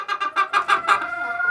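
Chickens cluck close by in a rapid series of about six short calls followed by a softer trailing cluck, with no talk.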